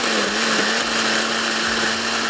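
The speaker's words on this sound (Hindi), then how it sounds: "अब बस ब्लेंडर को थोड़ा सा चलाएंगे" A kitchen blender whirs steadily, loud and close, mixing almonds, cashews, yogurt and tomato paste for a beef qorma gravy, with a constant motor drone throughout.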